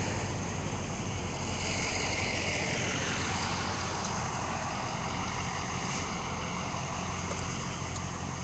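A tow truck idles at a night-time sheriff's checkpoint in Seffner, Florida, a steady low engine rumble under a broad outdoor hiss that runs unbroken and fairly distant, with no talking.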